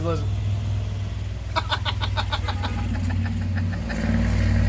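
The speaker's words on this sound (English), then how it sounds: "The watermelon truck's going by again." A watermelon truck passing along a road in Georgia, its engine droning and rattling as it goes by, with a steady low hum and a rhythmic clattering in the middle, under a voice talking.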